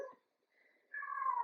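A pet cat lets out a meowing howl after catching prey, a short call at the start, a pause, then a louder drawn-out wail that holds steady close by.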